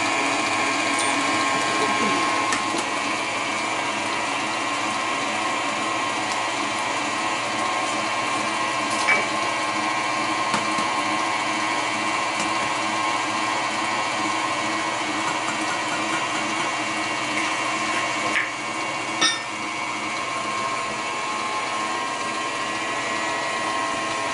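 An electric mixer whirs continuously through cake batter with a steady, buzzing motor drone and occasional knocks against the bowl, while faint voices come and go in the background.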